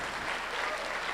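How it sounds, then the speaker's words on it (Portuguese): A church congregation applauds, a dense, even wash of clapping from many hands, sustained without a break. "Pode aplaudir o Senhor"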